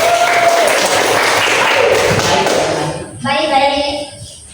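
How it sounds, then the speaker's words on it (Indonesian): A room of teachers claps in a dense wash for a group presentation, fairly loud and sustained, before easing off as a voice begins speaking over the tail. "Tepuk tangan buat kelompok 1."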